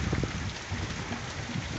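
Heavy rain falls steadily during a strong thunderstorm in Mobile County, a dense, loud, continuous hiss of drops on surfaces with no talk over it.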